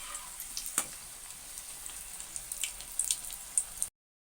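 Vegetable spring rolls fry in hot oil while being turned, giving a steady crackling sizzle with sharp spatters and pops. Faint utensil clicks come in before the sound cuts off abruptly.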